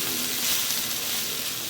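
Crispy-fried ivy gourd fries in a pan after being covered and cooked soft, giving a steady close sizzle and hiss of hot oil with faint stirring, no voices.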